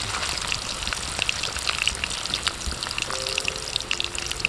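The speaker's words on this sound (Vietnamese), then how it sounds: "Cái này á mình chiên sơ á, cái lát cái mình gắp nó ra cho nó hơi vàng vàng." Battered banana pieces frying in hot oil, a steady, dense crackling sizzle that runs throughout at a moderate, even level, with no voices.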